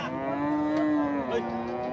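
A Friesian cow at a large cattle market moos, a single long, loud, close low call lasting about two seconds.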